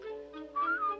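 A cartoon Viking whistles a signal: a quick run of bright, sliding whistled tones that rise and fall, clear and close with no talking.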